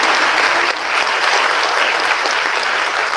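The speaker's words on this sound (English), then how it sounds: "Let's give them a round of applause for the first question." Audience clapping in a sustained, even burst of applause, close and loud, continuing without a break for the whole stretch.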